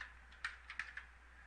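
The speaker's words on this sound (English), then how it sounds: "Oh, you just start typing." A few quick keystrokes on a computer keyboard, light clicky taps in a short burst, close and fairly quiet, with no talking.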